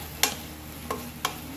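Shrimp are sautéed with cauliflower and cabbage in a pan, with a steady soft sizzle broken by three sharp utensil scrapes spaced apart, close and fairly quiet, with no voices.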